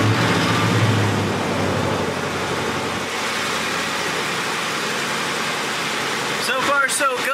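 A Ford F-series pickup engine runs after a fuel injector replacement, a continuous low mechanical hum over several seconds, with speech alongside it.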